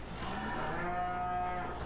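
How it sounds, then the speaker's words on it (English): A long, steady cow moo from cattle in the Farming Simulator 15 video game, a single drawn-out call heard alone at moderate volume. "We have cattle."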